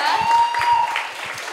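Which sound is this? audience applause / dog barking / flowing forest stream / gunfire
audience applause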